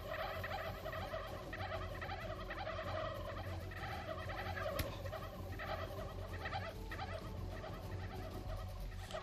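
Turkeys gobbling in the video game How to Survive 2, repeated rattling gobbles over steady game ambience, fairly faint and continuous throughout.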